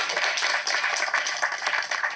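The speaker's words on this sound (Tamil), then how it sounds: "கணேஷ் மாஸ்டருக்கு வந்து தயவு செஞ்சு ஒரு கைத்தட்டல் கொடுங்க" Steady applause from an audience at a wedding-celebration event, giving Ganesh master a round of dense, continuous clapping that stays even and fairly loud for the whole stretch, with no voices over it.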